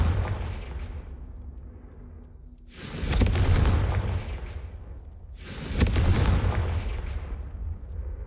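Two heavy explosive blasts from the Confringo fire spell in Hogwarts Legacy, each a sudden loud boom about three seconds apart that trails off into a long, rumbling decay, with no voices over them.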